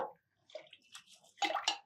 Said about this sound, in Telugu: బియ్యం పెసరపప్పు 2 కడిగేసి పోసేయండి